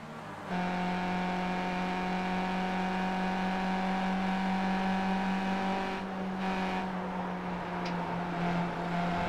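The race car engine of the number 14 machine at Suzuka in the Skip Barber racing game holds a steady, loud droning tone, slightly wavering in pitch, with no talk over it.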